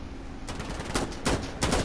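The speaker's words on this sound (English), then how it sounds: "Look how many times I shoot this guy, and I can't get him down" Rapid gunfire from a rifle in the shooter game Insurgency: Sandstorm, sharp loud bursts in a quick uneven sequence of three or four shots, with no talk.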